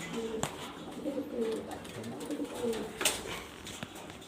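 Giant Afsan pigeons coo in soft repeated rolling calls at low volume, with faint background noise and a few brief clicks.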